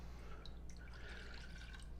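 Water pours into a small cooking pot in a kitchen, a steady, soft splashing and trickling fill with occasional drips, continuous and fairly quiet over low background hum.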